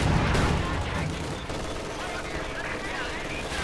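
Mortar shells crash down in the World War II strategy game Company of Heroes 2, loud bursts and rattling gunfire at the start that settle into a continuous battle din, with talk alongside.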